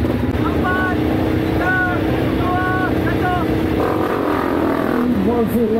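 Off-road racing motorcycles roar steadily during a Rimba Raid event, a loud continuous engine drone with rising revs, while a commentator's voice sits over the noise.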